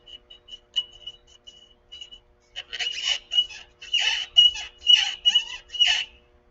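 Sharp high chirps from a squirrel outdoors, sparse at first, then a rapid burst of repeated chirping calls, moderately loud and clear.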